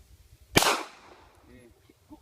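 A single gun fires once with a sharp, loud crack and a quickly fading echo, surrounded by quiet background and faint voices.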